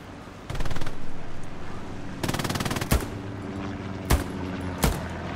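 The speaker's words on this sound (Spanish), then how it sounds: "Cerca del tanque hay un MG en un búnker." Machine gun firing in Hell Let Loose near a tank by the Omaha Beach bunkers, two loud sustained rapid bursts followed by a few single heavy booms and cracks, close and without talk.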